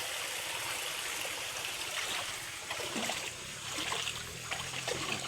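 A clean river flows steadily nearby, a continuous broadband rush of running stream water with small trickles and splashes over stones, heard alone without talk.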